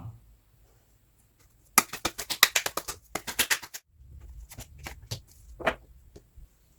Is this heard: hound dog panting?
no